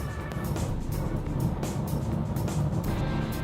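A Volkswagen Kombi van drives along at steady speed, its engine and road noise forming a continuous broadband rumble with faint intermittent rattles and no talking.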